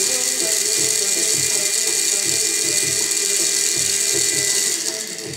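Small electric motor spinning steadily under an IR reflectance RPM sensor, a constant close whir with a faint rhythmic ticking pulse that tapers slightly at the end.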